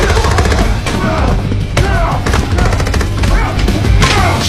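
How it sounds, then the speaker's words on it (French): Loud gunfire sound effect from a dramatized break-in in which a lock is blown open: a dense run of sharp, close bursts and thuds repeating irregularly throughout. "Un seul coup de feu a fait sauter la serrure."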